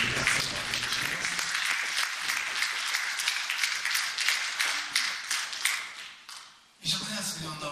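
A live audience at a song performance breaks into sustained applause, a dense wash of clapping that fades out near the end before a voice begins speaking.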